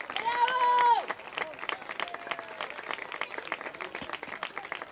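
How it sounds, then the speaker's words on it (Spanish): An audience at a mixed-category summer tournament final in 2023 claps loudly for a moment while a raised voice or tone rings out, then the scattered clapping and crowd murmur carry on at a steady level. "pedimos un fuerte aplauso para que para el año repitan este torneo"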